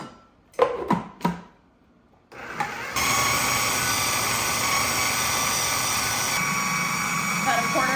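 After a few clattering knocks, a blender blending beet hummus kicks on into a loud, steady, high whir that runs unbroken to the end.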